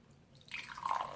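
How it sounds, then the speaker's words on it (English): Diet Coke ginger lime soda pours from a slim 12-ounce can into a glass, a soft fizzing trickle that starts after a short pause and grows louder and bubblier toward the end. "Let's pour it in here and see what color is it."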